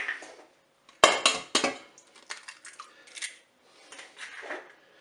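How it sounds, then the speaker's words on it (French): Three eggs cracked one after another against a mixing bowl for a chocolate cake batter, sharp close clicks and cracks followed by light tapping and shell rustling, with no talking. "je vais commencer par casser les œufs dans mon saladier"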